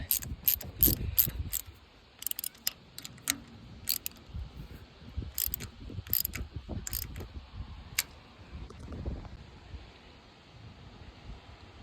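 Rapid bursts of ratchet-wrench clicks come close up and in short runs as a grease zerk is snugged tight on a 1953 Ford Jubilee tractor, with light wind noise and no talk.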